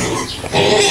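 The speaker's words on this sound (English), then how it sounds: "That's the pig right there." A pig destined for a Philippine pork lechon roast grunts briefly at close range, a short rough oink rising toward the end with no talk over it.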